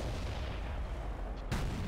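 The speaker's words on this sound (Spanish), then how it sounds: "Disparan por ahí." Tank cannon fire in World of Tanks, a loud continuous rumble of battle noise followed by a sudden sharp shot near the end.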